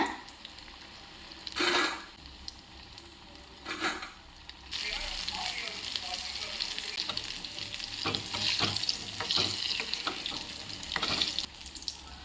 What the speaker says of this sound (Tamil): ஸ்டவ் பற்ற வச்சாச்சு, எண்ணெய் ஊற்றி வச்சுருக்கிறேன். எண்ணெய் சூடாயிருச்சு, நம்ம போட்டுக்கலாம்.